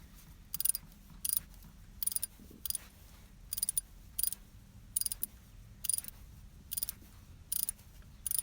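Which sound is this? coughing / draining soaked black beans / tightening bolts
tightening bolts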